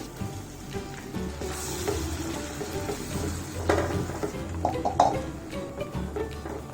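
Tomato paste with cumin and coriander powder sizzles in a pan for a no-onion, no-garlic daal makhni, a moderate close crackle with stirring scrapes and small sharp clinks.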